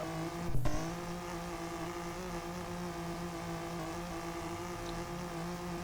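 A rear-wheel-drive car in drift mode circling a roundabout in the video game Classifia V2, giving a steady droning engine tone with a brief louder burst near the start.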